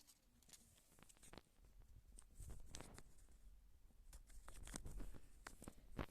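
A small plastic collectible packet for Roblox skins is torn open by hand, giving a string of close, faint crinkling rips and rustles in an otherwise quiet room.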